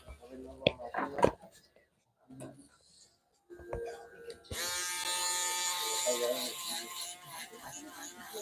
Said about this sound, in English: Now with the box shaver, like I told you